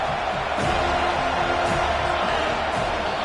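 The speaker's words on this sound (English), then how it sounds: "this crowd is tearing the lid off this place" A college football stadium crowd roars on third down, a dense, loud wash of cheering and whooping that swells in waves and fills the space with no break.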